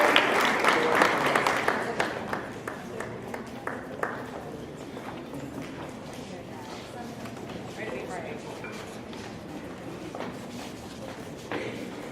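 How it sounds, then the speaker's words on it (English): Applause at a high school senior night for students who donated blood, starting fairly strong and thinning into scattered, sparser claps, with voices talking over the fading clapping. "another round of applause for all our students who donated blood"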